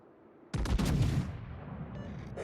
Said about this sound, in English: Well, shots are out.